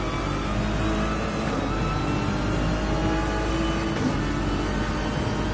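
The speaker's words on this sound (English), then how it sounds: "So let's jump on board with another noisy Ferrari. As we go round the infamous carousel." Loud, steady engine roar from an onboard Ferrari race car rounding the Nürburgring carousel during the 24-hour race, a continuous droning note with little change in pitch.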